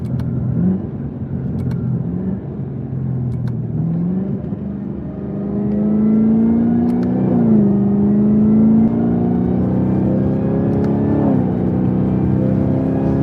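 A 2021 Camaro ZL1 1LE engine pulls hard and loud from inside the cabin, rising in pitch through several gears with brief dips at each smooth shift, steady and close with no talking.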